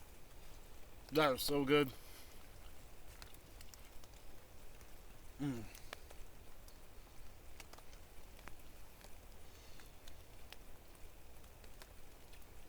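Soft, steady rain patters on a tarp in the woods, a faint continuous wash under two brief spoken remarks, one of them an appreciative comment.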